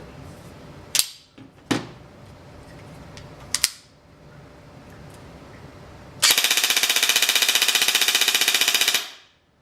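An ARP 9 airsoft gun fires a few single sharp shots, then lets off a loud sustained full-auto burst of about three seconds, up close with no talking.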